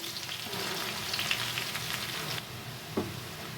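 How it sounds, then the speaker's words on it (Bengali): Onions fry gently in a pan with a soft, continuous sizzle, a few scraping stir sounds, and one sharp knock near the end with no talking. "পেঁয়াজটা খালি নরম হওয়া পর্যন্ত আমি একটু ভেজে নেব"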